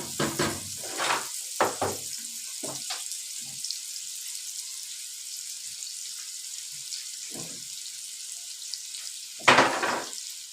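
Garlic and pepper sautéing in a hot pot, with soft intermittent sizzling bursts and clinks near the start, a quiet stretch, then a louder burst of frying near the end.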